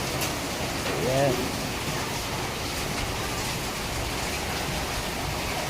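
Steady rain falls in cool weather, a dense, even hiss that continues throughout with no breaks.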